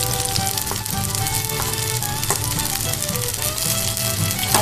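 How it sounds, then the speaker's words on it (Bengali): Onion, garlic and green chili fry in a pan for a tomato-egg bhujia, giving a loud, continuous sizzle close by, broken by occasional clinks from stirring. "পেঁয়াজ রসুন আর কাঁচা মরিচ দিয়ে খুব ভালো করে ভেজে নিচ্ছি।"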